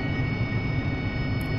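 A steady, droning jet roar from an AV-8B Harrier hovering in DCS World, a continuous even engine hum with a faint tonal whine, alone and without voices.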